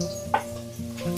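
Onion sautéing in a pan with ground coriander and cumin being added, a steady low sizzle with soft stirring scrapes and a brief utensil clink near the start.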